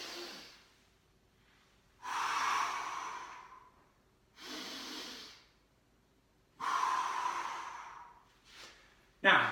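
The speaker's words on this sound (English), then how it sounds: "Let me take the sound of my voice out of it so you can hear my breathing." Deep breaths taken during a squat exercise, with an exhale on each rise: four broad, airy breath sounds spaced about two seconds apart, close and fairly loud, and nobody speaks.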